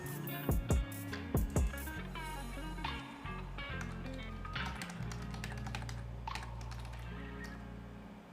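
Fingers tap on a computer keyboard to retype text in Photoshop, giving a quick run of close, soft key clicks over a low steady background hum.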